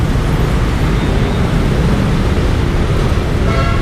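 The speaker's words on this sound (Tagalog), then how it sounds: "Grabe yung traffic dito." Road traffic noise heard from inside a car while driving in heavy holiday-season congestion: a steady, loud engine and road rumble with no voices.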